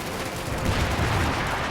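Gunfire in the World War II strategy game Company of Heroes 2, troops firing into enemy units on Hill 400: a dense, continuous burst of overlapping shots and rumbling battle noise, loud and steady throughout.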